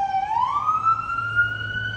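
A siren rising in pitch over steady New York City street noise, loud and fairly close, holding a sustained wail above a low traffic rumble, with no talking.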